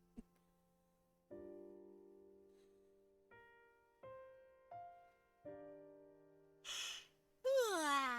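A drawn-out yawn with a falling, breathy voice closes a run of soft sustained musical tones, preceded by a shorter breathy exhale; close and fairly quiet.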